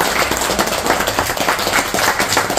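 Audience applause at a Dalit Sena branch inauguration event in Hosakote, a dense, steady burst of many hands clapping, loud and close throughout with no pauses.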